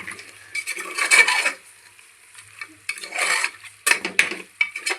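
Mutton curry with salt, chili powder and turmeric is stirred in a pot, giving repeated close scraping and clattering strokes in uneven bursts with short pauses between them.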